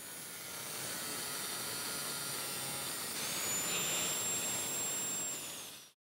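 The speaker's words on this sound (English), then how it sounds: "The Woodsmith sliding angle grinder saw." An angle grinder mounted in a shop-built sliding chop saw cuts with a steady high whine and harsh grinding hiss, rising slightly midway before winding down at the end.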